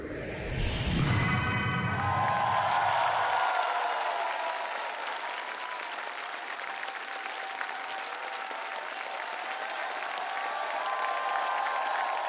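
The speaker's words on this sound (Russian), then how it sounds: "Под общие аплодисменты всей сотни из зала." A large hall audience at a televised choir-contest final applauds together, a dense, loud, sustained wash of clapping that runs the whole time, with a brief tonal musical sting at the start.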